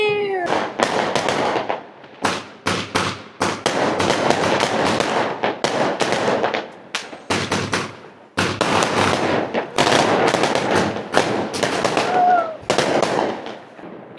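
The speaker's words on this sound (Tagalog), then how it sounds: "Pero ang ganda ng mga fireworks, no?" New Year fireworks go off at midnight in a dense string of sharp bursts and crackles, some close and loud, with short gaps between volleys and a few voices and a cat-like meow mixed in.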